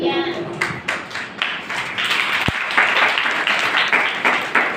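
A Sunday church congregation claps in scattered, uneven bursts that build into fuller clapping, with a sharp knock partway through and some voices mixed in.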